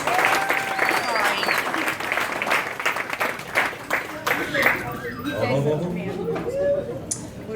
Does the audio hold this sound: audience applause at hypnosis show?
yes